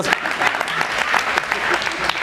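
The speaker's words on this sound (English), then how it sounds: "Please clap hands for me." Applause from a youth audience at a motivational talk, a lively burst of many hands clapping close and loud, with some voices mixed into the clapping.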